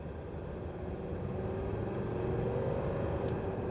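An old Mercedes 300D diesel car accelerating on the road, heard from inside as a steady, loud, low engine rumble with road noise and a slowly rising tone, no talking.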